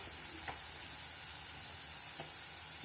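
Chicken roast stirred with roast masala in a pan: a faint, steady sizzle with two soft spatula scrapes, one early and one near the end.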